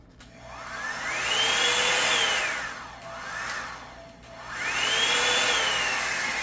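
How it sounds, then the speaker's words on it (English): A small blow dryer brush whirs close by, its motor pitch rising and falling in three long swells as it is moved or adjusted, steady and alone. "The little blow dryer brush."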